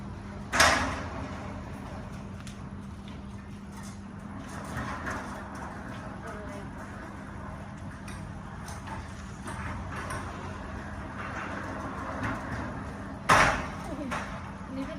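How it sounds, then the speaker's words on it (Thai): A centre-opening sliding door glides along its track with a continuous low rolling rumble, marked by a sharp knock near the start and another near the end, under a steady background hum. "ประตูเลื่อนแบบนี้นะคะ"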